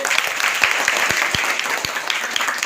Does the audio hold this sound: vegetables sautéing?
no